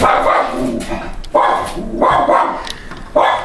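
A dog barking indoors, three or four loud, close, evenly spaced barks with brief whimpery tails, heard on its own.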